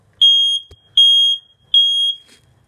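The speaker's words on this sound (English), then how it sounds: "that's the smoke alarm" A household smoke alarm sounds three loud, piercing beeps in an even rhythm, each lasting about half a second, with short silent gaps between.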